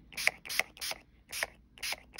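A hand sprayer mists Tim Holtz Distress spray stain onto paper in quick pumped bursts, five short hissing sprays at a close range with brief pauses between them.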